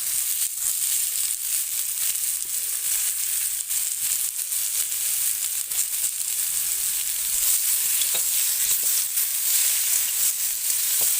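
Fish, cauliflower and potato curry with added salt fries in a pan with a steady bright sizzle, broken by occasional clicks and scrapes of a stirring spoon.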